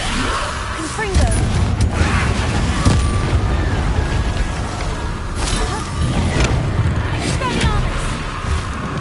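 Repeated fiery Confringo spell blasts from Hogwarts Legacy boom through a noisy battle, with rumbling low impacts and whooshes layered under other combat sounds and a voice calling out.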